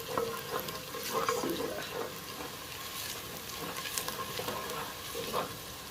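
Onions sizzle and crackle as they fry in a pan, with scraping stirs and clinks of utensils now and then, a steady close hiss with no talking.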